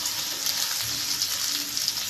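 Ginger, green chilli and garlic fry together in hot oil, giving a steady, close sizzle that holds at an even level throughout, with no voices over it.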